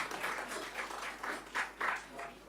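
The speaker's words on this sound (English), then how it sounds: "Sir, please give him a warm applause" Applause from the audience at the announcement of India's 66th National Film Awards, soft and somewhat distant, swelling in a few brief louder bursts.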